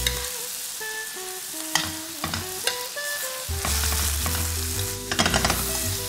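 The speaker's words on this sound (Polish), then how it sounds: "Mamy taki wątroba cielęca, około 250 do 300 gramów i dodamy do patelni." Calf liver, about 250 to 300 grams, hits a hot pan with sage and sizzles loudly and steadily, with occasional stirring clinks and scraping, no voices over it.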